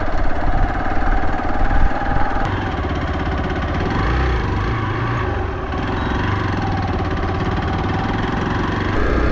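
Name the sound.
Xpulse 200 motorcycle engine running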